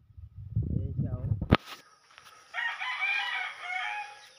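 Farm chickens crowing and clucking on a morning as a child plays among them, a close low clucking burst followed by a sharp knock and a sustained rooster crow further off.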